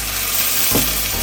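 Vegetables for Hakka noodles hit a hot frying pan, raising a loud, steady sizzle with a brief burst of tossing near the middle; no voices.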